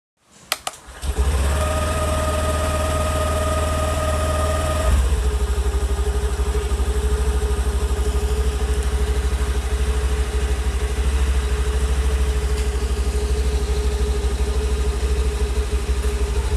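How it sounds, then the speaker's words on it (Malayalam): A scooter engine starts with a brief rough catch, then settles into a steady, loud, buzzing idle that runs on evenly, close up and alone. "ഇപ്പോൾ കേട്ടല്ലോ സൗണ്ട്, അതുപോലെ കേട്ടോ നമ്മൾ സ്റ്റാർട്ട് ചെയ്യുമ്പോൾ ഒരു സൗണ്ടും"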